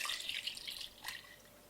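Water poured into a crock pot over chopped roast for birria, a soft bright splashing trickle that tapers off after about a second, quiet and close with no talking.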